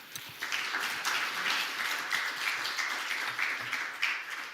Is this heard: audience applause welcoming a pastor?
yes